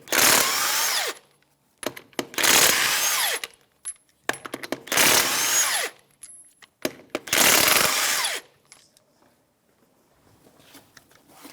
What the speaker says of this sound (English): remove the lug nuts.